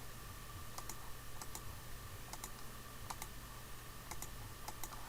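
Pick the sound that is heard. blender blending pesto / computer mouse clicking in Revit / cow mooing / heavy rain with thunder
computer mouse clicking in Revit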